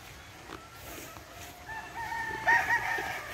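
Brood stags in a backyard gamefowl yard crow, the cock-a-doodle-doo rising out of quiet ambience and growing louder near the end, with faint clucks around it.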